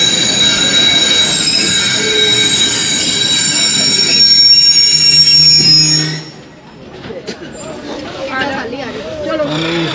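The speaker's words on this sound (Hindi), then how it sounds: "मियां चन्नू रेलवे स्टेशन पर अपना शेड्यूल्ड स्टॉप तकरीबन 2 से 3 मिनट का करने के बाद अब रवाना हो गई है ट्रेन।" Khyber Mail passenger train pulling out of Mian Channu railway station in Punjab on a cold, foggy day, with loud steady rolling rumble and wheel squeal that drops away after a few seconds, then quieter rail noise with people talking nearby.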